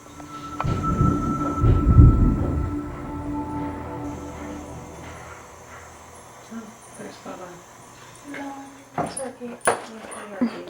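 A dog indoors during a paranormal investigation whimpers and shuffles close by, loudest early on, while people talk and thumps and knocks sound toward the end.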